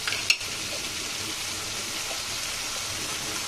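Tilapia fish pieces with turmeric powder frying in oil in a pan while being stirred, a steady sizzle with one sharp scrape of a utensil near the start, close and with no voices.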